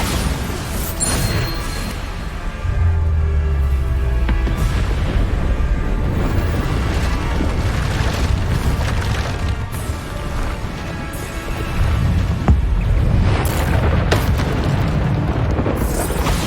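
Bombarda spell explosions in the video game Hogwarts Legacy, repeated loud booms and blasts layered over continuous dense game sound and music.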